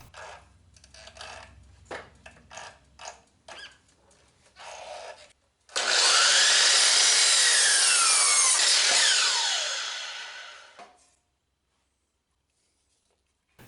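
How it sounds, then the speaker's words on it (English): A miter saw set to a 22.5-degree angle cuts a wooden board for water wheel rim pieces. A few light knocks come first, then a loud, sustained whine from the blade biting through the wood, which winds down and stops. "Line up the blade on the 15-inch mark and cut the board."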